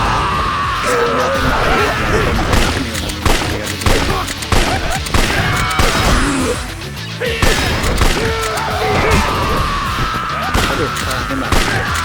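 Bursts of gunfire in the Yakuza 3 Remastered video game, played on Legend difficulty, rattling repeatedly amid loud yelling and crashing fight noise, dense and chaotic from start to finish.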